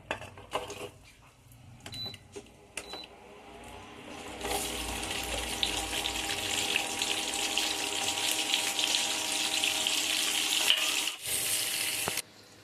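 Capsicum, onion and green chillies hit hot oil for chilli chicken. A few clinks come first, then a sudden loud sizzle that holds steady and close for several seconds before dropping off at the end.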